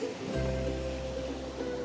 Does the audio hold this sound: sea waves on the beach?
yes